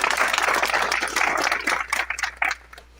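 Crowd at an Ambazonia Independence Day celebration clapping in a dense burst of applause that thins into a few scattered claps before fading out.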